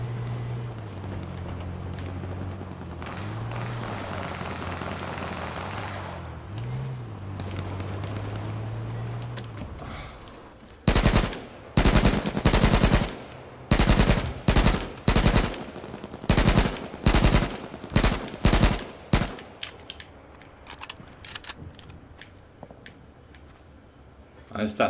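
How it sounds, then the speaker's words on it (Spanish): Gunfire in the video game H1Z1: after a stretch of engine-like rumble and a voice talking, a rapid series of loud, sharp shots rings out in uneven bursts, then tapers into quieter ambience. "¿Para qué hay tiros?"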